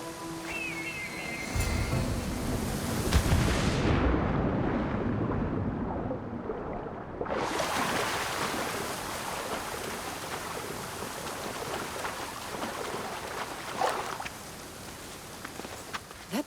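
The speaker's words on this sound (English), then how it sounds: "This is the waterfall." Rushing waterfall in Assassin's Creed Odyssey, a steady broadband roar of falling water with wash swelling and shifting through the scene, fairly close and continuous with no voices.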